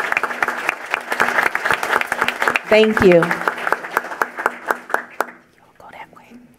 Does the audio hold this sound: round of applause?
yes